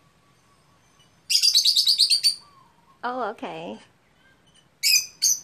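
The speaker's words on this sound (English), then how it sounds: "We have birds." Several small birds chirp and tweet in Hawaii, with a long run of bright rapid chirps, a pair of warbling calls and a few more chirps near the end, fairly close over quiet surroundings; a person briefly speaks.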